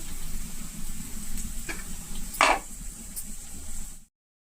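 Onions with a little salt and turmeric frying in a pan, giving a steady low sizzle throughout with a brief louder stir or scrape near the middle, with no talking.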